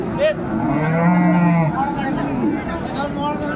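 A dairy cow with a calf at the Ambari cattle market in Dinajpur gives one long, loud, droning moo through the middle, with market voices and chatter around it.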